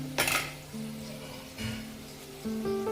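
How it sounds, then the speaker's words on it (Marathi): Cooked rice tipped into a pot of cooked vegetables for pulao, with a sharp metallic clink of utensil on pot followed by soft scraping and a couple of lighter knocks, close and alone over a faint steady hum. "आता आपण ह्याच्यामध्ये तांदूळ घालणार आहोत"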